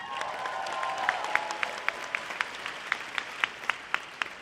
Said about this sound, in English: And yes, let's applaud to that.